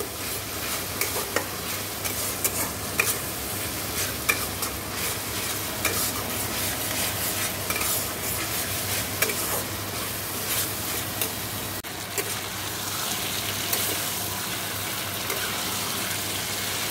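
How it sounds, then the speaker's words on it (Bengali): Meat masala is stirred and fried in a pan, a continuous sizzle mixed with scraping and shuffling of the spoon through the thick mixture that carries on steadily without talk. "দেখো মাংসের মশলাটা কষিয়ে নিচ্ছি ভালো করে।"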